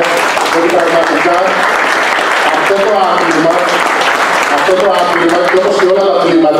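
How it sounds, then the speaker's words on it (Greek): Sustained, steady audience applause at an arm-wrestling Grand Prix event, with someone speaking loudly over the clapping throughout. "Θέλω και αυτό είναι ένα χειροκρότημα."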